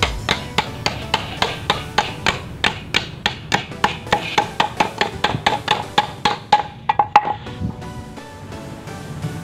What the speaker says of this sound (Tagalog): pupukin lang natin siya ng martilyo